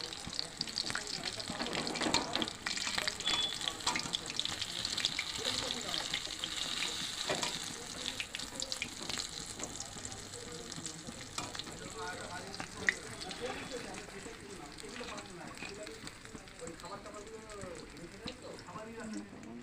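Stuffed teasel gourd fritters frying in oil give a continuous soft sizzle with scattered pops, faint and close, while a voice talks over it at times.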